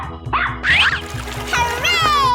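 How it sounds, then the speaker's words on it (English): A dog barks in a children's animal toy or cartoon setting, a couple of bright yelps over a rhythmic musical background, with a voice saying animal names nearby. "dog"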